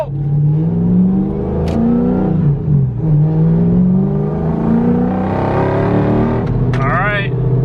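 Drift truck engine revving up quickly under gas, its pitch climbing and falling in loud, continuous harmonic sweeps close to the microphone, with a brief higher whine near the end.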